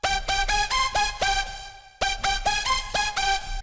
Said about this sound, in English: But you can also use this just as a supersaw lead.